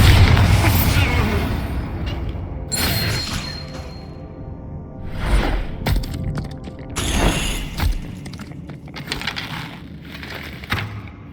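Confringo and Bombarda spells go off in a Hogwarts Legacy battle, a string of booming blasts and crashing impacts with whooshes between them, loud and close over a busy combat soundscape.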